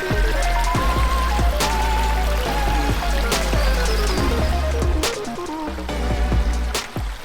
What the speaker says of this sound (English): Gave us a nice little waterfall right through here.